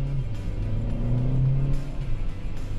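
A Hyundai i40 estate with a manual-mode gearbox pulls away, its engine a steady, fairly loud rumble that rises in pitch and briefly drops as it shifts gear from inside the cabin.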